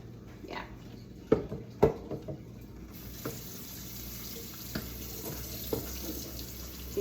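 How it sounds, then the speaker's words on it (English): A couple of sharp clanks at a sink, then cold water from the tap starts and runs in a steady, soft rush until the end. "Get that cold water going."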